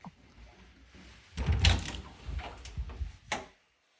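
A closet door in a Cheektowaga apartment bedroom is slid or pulled open, giving a few wooden rumbles and knocks over a couple of seconds, close and moderately loud, then silence.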